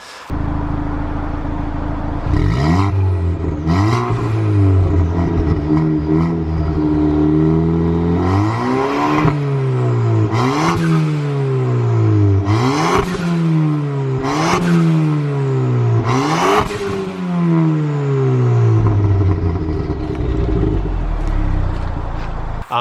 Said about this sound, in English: one of the best sounding exhausts in terms of making it sound tuned rather than just like a droney, normal Fiesta exhaust